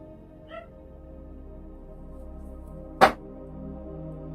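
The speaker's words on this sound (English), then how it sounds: "You can hear my dog barking." Small dog giving a faint, short yip followed a few seconds later by a single sharp bark, heard over a quiet background of steady music-like tones.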